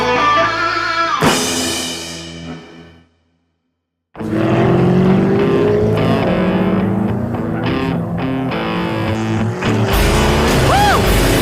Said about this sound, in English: It's like a little go-kart with a V8 in the front.